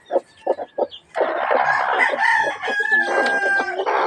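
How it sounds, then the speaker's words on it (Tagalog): Chickens on a backyard poultry farm, a rooster crowing loudly near the mic after a few short clucks, with the clucking close and clear. "dito may sisiw pa ako dito"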